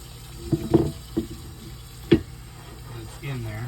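Hot water runs from a kitchen tap during washing up with a scrubber, a low steady flow broken by a few sharp clanks and knocks, and a voice comes in briefly near the end.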